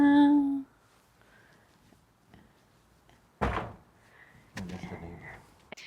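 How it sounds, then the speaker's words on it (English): A door to the backyard of a traditional Korean hanok hotel room opens with a couple of close wooden thunks and a sliding scrape, separated by quiet pauses, after a brief voice at the start. "there's another door you can get out to the backyard."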